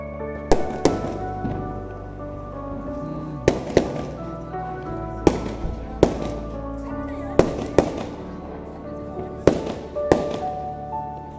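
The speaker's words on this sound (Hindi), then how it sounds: "धुआंधार बम फूट रहे हैं" Diwali firecrackers burst on a busy street: a series of about eight loud, sharp bangs at irregular intervals of a second or two, each ringing out briefly, with people talking in the background.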